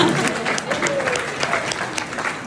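Crowd applause at an outdoor garden party in Canada with the Prime Minister, a steady dense patter of many hands clapping, fairly loud, with faint voices mixed in.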